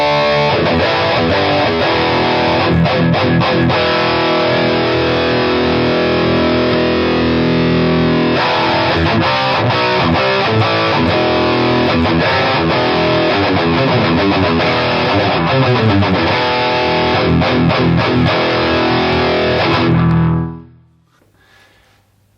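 A Westone X390 Pantera electric guitar played through a booster with heavy distortion chugs out dense, saturated riffs for about twenty seconds, loud and alone, ending in an abrupt cut to near silence.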